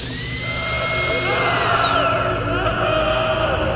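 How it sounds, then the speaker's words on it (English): A drill winding up at the medical table on Verruckt in Call of Duty Zombies: a loud, high whine holds steady, then slides down in pitch over a constant mechanical drone, close and continuous. "you have the drill, you go up and press X or square or whatever you have to activate the drill"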